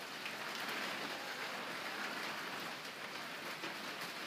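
Steady rain falls outside on a cold, damp day, a dense, even hiss that carries unbroken and alone with no voices over it.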